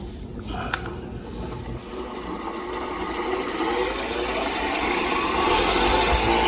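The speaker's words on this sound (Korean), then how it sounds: "앞부분에서 어떻게 연마를 하는지 제가 한번 보여드리겠습니다" The tip of a drill bit is ground, with a gritty abrasive rasp that starts quietly after a sharp click and builds steadily louder into a continuous grinding noise close by.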